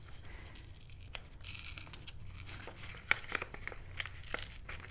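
A paper envelope being torn open by hand, with quiet intermittent crinkles and short sharp rips, close and soft in a calm room.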